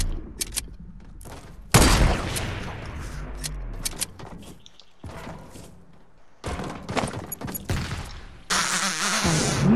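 Rapid bursts of video game gunfire in Fortnite aimed at a cube, with sharp loud shots in clusters and thuds, broken by brief gaps, with a steady cracking volley near the end.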